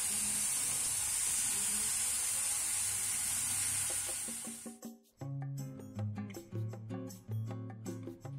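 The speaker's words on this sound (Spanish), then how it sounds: "Sellamos de ambos lados de nuestro pollo." Chicken searing in a pan, a loud steady sizzle and hiss for several seconds that cuts off abruptly, followed by soft plucked music notes.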